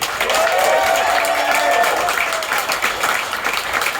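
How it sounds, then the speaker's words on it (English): Audience at a cruise-ship comedy panel show applauds for four performers, a steady dense wash of clapping and crowd noise filling the whole stretch and easing off slightly toward the end. "Please give a big round of applause for Sunny Lai, Doug Rowland, Sarah Gibson, and Mike Berman."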